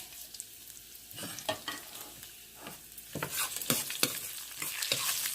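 Onion, dried red chillies and cumin hit hot oil for a tempering, bursting into a crackling sizzle with stirring scrapes that grows louder and busier toward the end.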